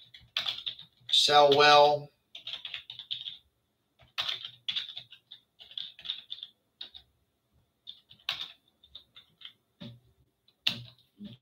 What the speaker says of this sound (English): Let me just type that in for you